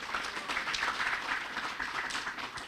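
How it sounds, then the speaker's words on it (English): An audience at a lecture claps for a young girl, steady continuous applause with a soft, even texture, somewhat distant and fairly quiet. "Can we please clap for Dhatri?"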